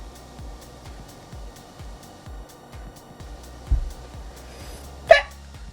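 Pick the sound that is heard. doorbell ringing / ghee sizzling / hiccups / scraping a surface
hiccups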